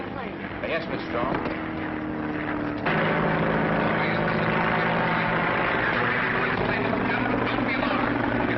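A loud, continuous racing airplane engine drone fills the scene, growing rougher and fuller partway through, with a voice talking faintly underneath.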